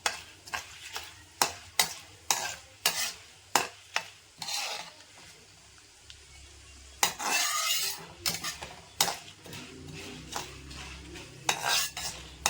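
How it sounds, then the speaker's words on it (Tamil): Onions with chana dal and urad dal sautéing in a pan for Karnataka-style chitranna, a spoon scraping and stirring in sharp repeated strokes over a soft sizzle, close and fairly loud, with no talking. "நல்லா வதக்கணும்."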